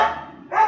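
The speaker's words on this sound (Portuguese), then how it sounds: "meu cachorro me anunciando, chegou o caminhão do lixo" A dog barks to announce the garbage truck arriving, two loud close barks with a short gap between them, heard alone with no talking.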